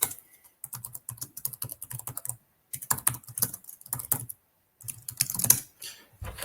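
Close, crisp typing on a computer keyboard in quick clattering runs of keystrokes, broken by brief silent pauses, with no talk over it.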